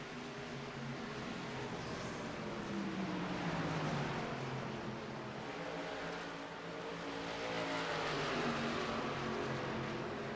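Stock car engines roaring in a racing game, a steady, droning blend of several cars with pitch rising and falling as they pass, sustained without breaks.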